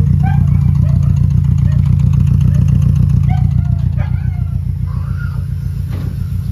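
A Nissan Sentra B14 engine with faulty injectors idles close and loud, its low rumble pulsing in an uneven, stumbling rhythm of misfires, with voices talking faintly over it.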